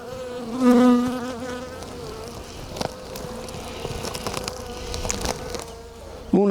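Honeybees buzzing around their hive in a village yard, a steady droning hum with a louder swell near the start and a sharper bump at the very end.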